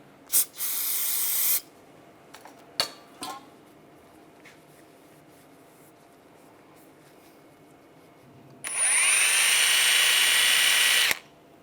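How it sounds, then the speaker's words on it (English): Brake parts cleaner is sprayed onto front brake parts from a 2006-2009 Mercedes-Benz E350 in two sharp hissing bursts, one short and one longer, with quiet handling clicks between them. "Just take some brake parts cleaner and a rag, wipe them down."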